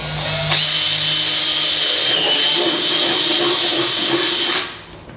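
A power drill spins up and drills steadily at high pitch for about four seconds through a go-kart seat, close and loud, then winds down.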